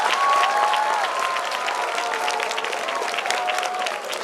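A school audience applauds a principal at an event, dense continuous clapping with some cheering and voices mixed in throughout.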